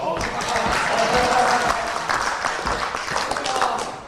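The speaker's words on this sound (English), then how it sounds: "I'm going to keep doing that until you all applause." Audience applause at a magic show, a steady dense wash of clapping throughout, with voices mixed in underneath.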